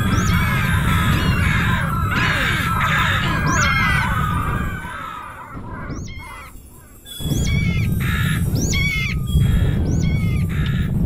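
Crows in the video game Chopper Mike caw and squawk in a string of harsh, repeated calls over a steady game backdrop, pausing briefly midway before the cawing resumes.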